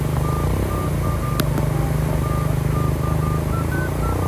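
A motorcycle carrying two riders rolls along near a jetty, its steady engine drone loud and continuous with a faint periodic beep over it.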